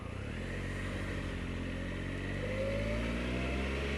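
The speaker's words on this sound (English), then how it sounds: "So a vehicle approaching." A vehicle approaches and passes a moving motorcycle on a road, heard as a steady engine drone under constant wind and motor noise, swelling slightly toward the end.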